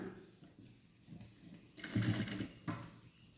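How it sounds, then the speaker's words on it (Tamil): Sewing machine stitching a large-size blouse, a soft intermittent whirr and rapid needle chatter that grows louder in the second half, faint and close. "கரெக்டாக இந்த இடத்துலலாம் ஜாயின் போட்ட இடத்துல எல்லாம் கொஞ்சம் கவனமாக ஸ்டிச் பண்ணுங்கள்"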